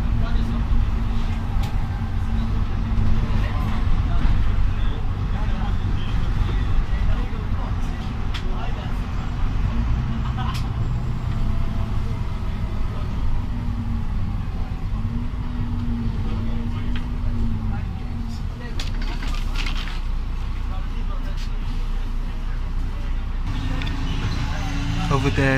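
A bus drives and accelerates hard, its engine droning and rising in pitch across a sustained run, with someone talking over the noise.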